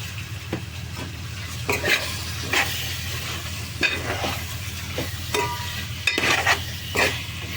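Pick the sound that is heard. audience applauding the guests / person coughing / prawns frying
prawns frying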